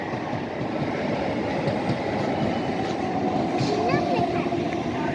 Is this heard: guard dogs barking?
no